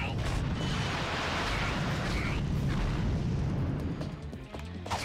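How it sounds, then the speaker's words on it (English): Mini missiles exploding on enemies in the Ratchet & Clank game, a dense, continuous roar of overlapping blasts and rumbling booms that holds steady throughout. "each ammo releases, like, a bucket load of mini missiles that just home in on foes"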